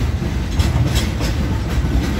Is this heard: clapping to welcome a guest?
no